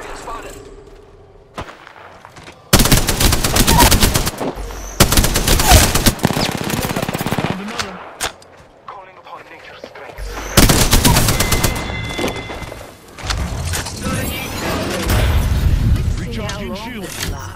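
Shooter video game gunfire comes in loud sustained bursts of rapid automatic shots with booming hits, broken by quieter gaps and mixed with other game sounds.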